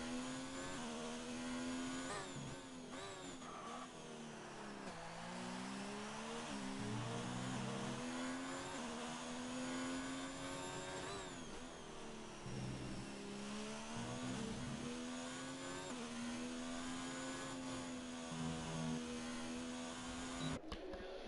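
A race car in a racing video game, its engine whining steadily with rising and falling pitch through gear shifts and turns around a lap of the Spanish Grand Prix circuit, continuous and alone.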